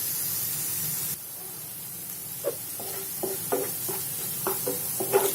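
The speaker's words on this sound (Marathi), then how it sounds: "मिरची सुद्धा आपल्याला व्यवस्थित भाजून घ्यायची" Green chillies roasting in a pan for pav bhaji, a soft hiss with a run of short scraping and stirring strokes near the end.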